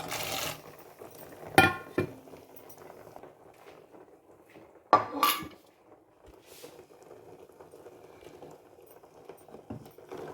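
Pieces of tuber and vegetables dropped into a cooking pot of simmering porridge, two distinct splashy thuds a few seconds apart over a quiet bubbling background.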